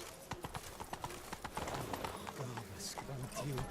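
Roach the horse galloping in The Witcher 3, rapid rhythmic hoofbeats close by under spoken game dialogue and background music.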